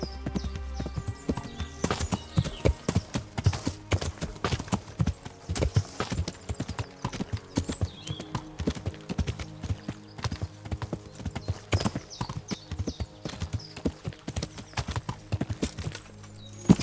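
Roach, a horse in The Witcher 3, gallops with rapid, steady hoofbeat clip-clops, loud and close, with a brief whinny and faint game sounds underneath.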